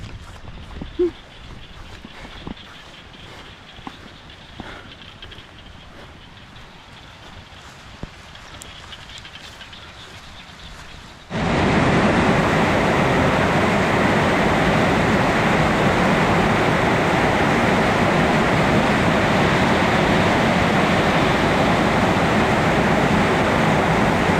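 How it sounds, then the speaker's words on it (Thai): Quiet background with a few faint knocks, then at the halfway point a sudden, loud, steady wash of broadband noise like a heavy downpour arriving and continuing. "ฝนมาแล้วฝนมาแล้ว"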